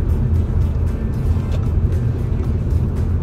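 Steady low road rumble and engine drone from inside a moving car, loud and continuous with no talking, a few faint clicks and bumps over the top.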